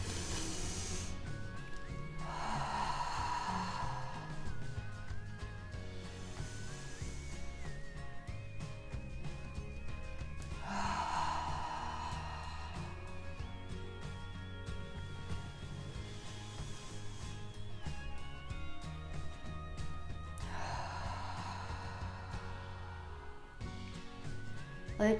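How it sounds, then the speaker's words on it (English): Slow, deep breaths drawn in through the nose and let out through the mouth, three long airy swells spaced apart over soft sustained background music, close and gentle. "We're going to take some deep breaths in our nose and out of our mouth"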